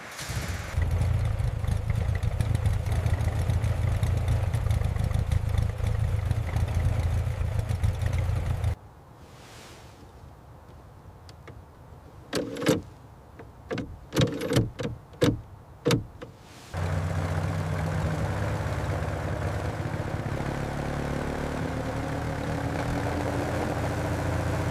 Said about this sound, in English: The engine sounds healthy.